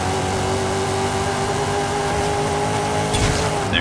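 Chevrolet Impala Super Sport with a drag tune and 1,000 horsepower launching in Forza Horizon 5, a steady loud engine drone holding a strained note, ending with a sharp burst of noise.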